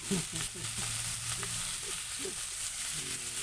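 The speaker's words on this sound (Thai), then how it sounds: "รวนหรือคั่วให้ไม่ไหม้ให้มีกลิ่นหอมกระทะ" Food sizzles and scrapes in a hot wok, a steady stir-frying hiss with intermittent clanks of a utensil stirring.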